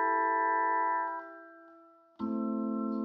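Several sustained notes from a Korg Volca Sample ring together as a chord, fade down, then a new chord of stacked notes strikes and holds.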